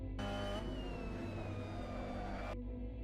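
A Mazda MX-5 Cup race car in Assetto Corsa at Misano howls at high revs, its engine note sliding steadily downward as it runs over the curbs, with abrupt shifts in tone near the start and end.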